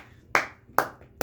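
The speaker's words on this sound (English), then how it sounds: "A nice slow clap." Three sharp hand claps spaced slowly and evenly, each ringing out alone in a quiet room with no talk.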